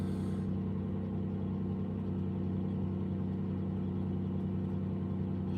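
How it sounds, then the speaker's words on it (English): A car engine runs in a steady, continuous drone with a low rumble, loud and unchanging throughout, with no talking. "Hopefully the car's not too loud."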